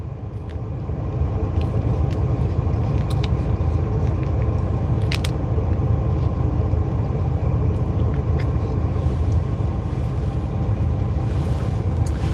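Steady road traffic rumble inside a truck cab on a run from St Anles to Nottinghamshire, a continuous loud low drone with passing vehicle noise and faint clicks, no talking.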